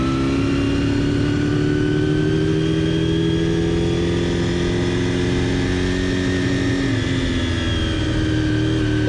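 Honda RVF400 V4 motorcycle on the Sportsland SUGO race track, its engine droning steadily and loud throughout with shifting harmonic pitch as revs rise and fall, no talk over it.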